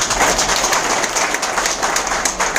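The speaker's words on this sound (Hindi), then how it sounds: "एक जोरदार तालियां" Audience applause for a guest at a Hindi-language business seminar: a dense, steady wash of clapping that holds at an even level for the whole stretch, with no voices over it.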